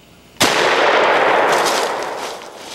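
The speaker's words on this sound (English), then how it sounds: "The movement stops the longbeard in a clear lane for Harold to shoot" A single loud, close shotgun blast at a longbeard wild turkey during a spring turkey hunt, cracking sharply and then rolling away in a long fading echo.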